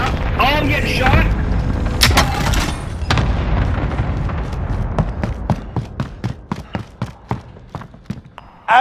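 Video game gunfire: loud booms and cracks open the clip, then a string of sharp, evenly spaced single shots rings out and grows steadily more distinct toward the end.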